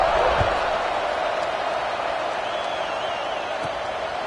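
A football video game stadium crowd buzzes as a steady, dense murmur of many voices throughout, fairly loud and even, with a faint whistle-like tone drifting in midway.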